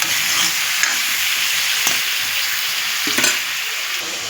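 Onion and tomatoes with salt and turmeric fry in a pan with a continuous crackling sizzle, broken by a few stirring scrapes and clinks throughout.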